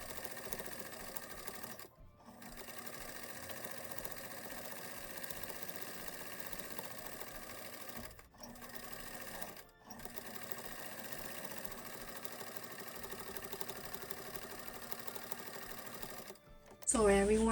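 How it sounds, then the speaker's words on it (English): A sewing machine top-stitches fabric pieces for an angel-shaped Christmas decoration, running in a fast, steady whir broken by three short stops, close and fairly quiet. "I'm gonna go and top stitch all 3 pieces."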